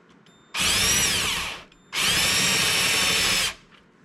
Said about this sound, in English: I guess we're just gonna take a drill and try to knock the heads of this thing off.